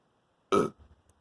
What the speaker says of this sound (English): Don't know what I just burp up for.